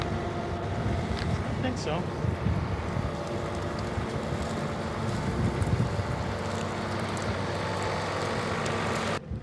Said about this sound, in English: you may as well shut the tractor off